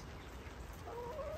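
Farm chickens, housed in a coop during rain, cluck softly nearby over a muffled background, with a brief rising call near the end.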